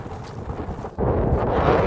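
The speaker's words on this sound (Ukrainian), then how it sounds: "Треба тікати, бо дуже холодний вітер." Cold wind gusts across a strawberry field covered with agrofibre, buffeting the microphone with a low rumbling rush that drops briefly, then returns louder and steady.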